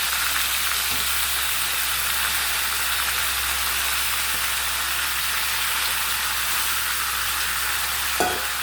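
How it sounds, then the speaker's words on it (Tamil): Brinjal and potato pieces frying with softened onion in hot oil, a dense steady sizzle that continues close and unbroken, with a faint clink of a utensil near the end. "வெங்காயம் வணக்கி இருக்குது, கத்திரிக்காய் உருளைக்கிழங்கு போடுறேன்."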